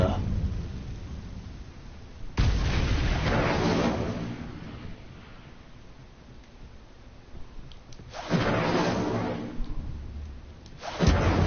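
The Incendio fire spell is cast in Hogwarts Legacy, giving three loud rushing, roaring bursts of flame, each rising sharply and then fading, set against quieter game ambience.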